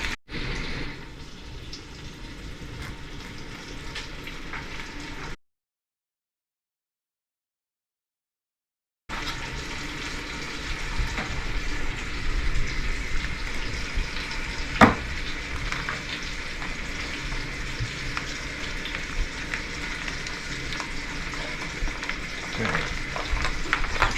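Bacon and sausage sizzle steadily in a pan in a home kitchen, a dense close-up frying hiss broken by a few seconds of silence and one brief sharp clink.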